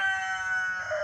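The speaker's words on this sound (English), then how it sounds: "And a chicken or two." A chicken in a flower garden gives a single sustained, harmonic call lasting about a second, close and fairly loud, with no talk over it.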